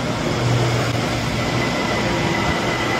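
A train pulls into a Bangkok station with a steady, loud roar and hiss that fills the whole stretch, then cuts off abruptly.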